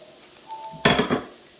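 Bacon grease hits a hot pan while Zuppa Toscana soup is being made, with a loud burst of sizzling and crackling that swells, flares again, then settles into a fainter hiss.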